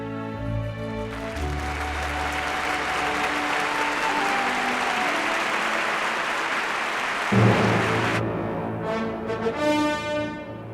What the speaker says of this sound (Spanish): Y todos, conmovidos, aplaudieron.